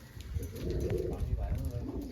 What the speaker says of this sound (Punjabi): ਇਧਰ ਦਾਣਾ ਪਾਣੀ ਚੁਗ ਰਹੇ ਨੇ ਕਬੂਤਰ